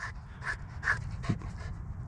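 A trained female dog pants rapidly and rhythmically close by, performing on command, with a few short, breathy bursts and no speech.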